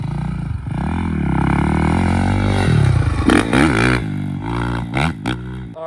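Kawasaki KX450 dirt bike engine revving loudly and close, a sustained roar that rises and falls through several sharp throttle blips, with no talk.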